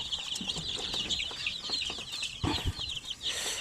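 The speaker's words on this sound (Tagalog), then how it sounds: "So ito yung mga sisiw natin." About one-week-old chicks peeping continuously in a dense, high chorus, close and fairly loud, with a few low bumps underneath.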